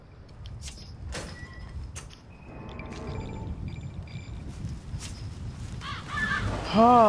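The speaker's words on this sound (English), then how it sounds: "Oh, they're just crows." Crows caw in a horror video game, a few harsh calls rising near the end over low ambient rumble and clattering, with a voice speaking briefly.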